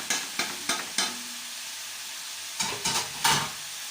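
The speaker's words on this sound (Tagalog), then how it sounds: "Haluin ng maigi." A utensil stirs sizzling food in a pan while cooking Arabic matsbot, scraping in two bursts of four quick, sharp strokes, close and clear, with a gentle fry beneath and a short quiet gap between.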